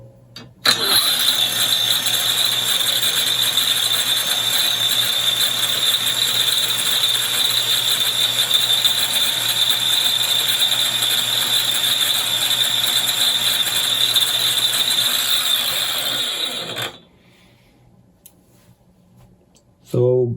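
Propeller motor on a DIY dynamic balancer test bench spins up and runs at about 2,300 RPM with a loud, steady high whine for many seconds, then stops abruptly, leaving near silence.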